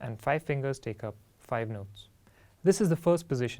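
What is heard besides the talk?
No everyday noise stands out behind the speech.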